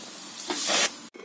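A pressure cooker vents steam while cooking jackfruit curry: a loud, close hiss that swells for about half a second and then cuts off abruptly.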